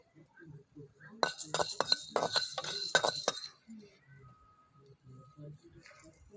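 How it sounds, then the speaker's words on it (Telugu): Black peppercorns and coriander seeds roasting in a pan, a quick run of bright clinking and rattling as they are stirred and tossed against the metal, then quieter, with a voice talking faintly throughout. "అలానే మిరియాలు కొన్ని ధనియాలు ఒకసారి వేపుకుందామండి"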